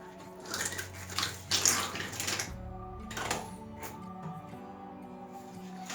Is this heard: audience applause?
no